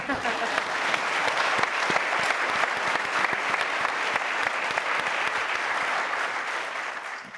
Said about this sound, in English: Get Squirth a clap